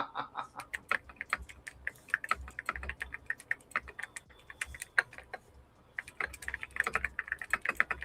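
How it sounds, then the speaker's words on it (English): Typing on a computer keyboard, with rapid, irregular key clicks in bursts, a short pause in the middle, and the clicks fairly close. "He's typing."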